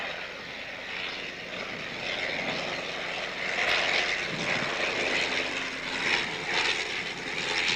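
An Avro Tutor propeller biplane at a British airshow drones steadily overhead, its engine noise swelling slightly as it passes at moderate distance, with no voices.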